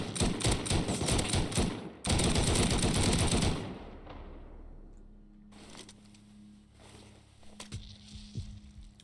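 Rapid automatic gunfire in the game Rust, two dense loud bursts that cut off abruptly, then scattered fainter shots and clicks against a quieter background.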